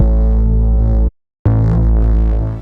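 Analog Lab synth bass with distortion engaged, a thick, gritty low-end tone played in two long sustained bursts split by a brief silent gap, loud and alone.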